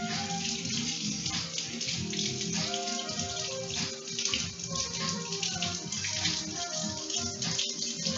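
Water runs steadily from a tap as the tip of a plastic pancake batter bottle is washed, a continuous splashing stream with small shifts in flow.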